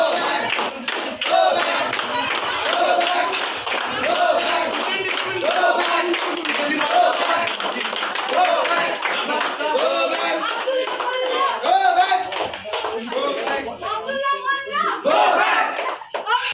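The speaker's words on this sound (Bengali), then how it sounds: "বিশ্বভারতীর এক প্রফেসরের বিরুদ্ধে গো ব্যাক স্লোগান তুলে বিক্ষোভ পড়ুয়াদের" Students at Visva-Bharati University protest against a professor, a crowd chanting slogans in steady rhythmic unison with clapping, loud and close, continuing throughout with scattered shouts.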